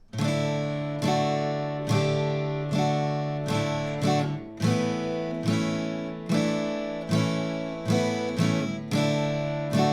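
Acoustic guitar playing a song with steady down strums, a chord progression of about a dozen ringing strokes in even rhythm, close and unaccompanied.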